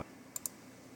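Faint computer mouse clicks on an educational anatomy bone game: a soft tap at the start, then two quick crisp clicks in close succession against quiet room tone.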